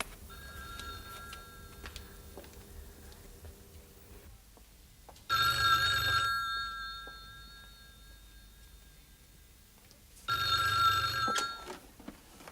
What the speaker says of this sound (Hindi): टेलीफोन की घंटी बज रही है